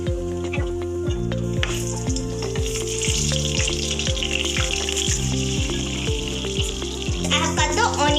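Chilies, cumin seeds, cloves, cardamom and cinnamon sizzle steadily in hot oil for a Punjabi chole dish, a continuous bright frying hiss that runs under a repeating musical backing.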